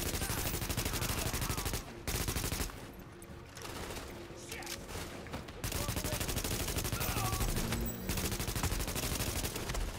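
Sustained automatic gunfire from the co-op shooter game The Division, loud dense bursts filling nearly the whole stretch with brief gaps, voices faintly under the shooting.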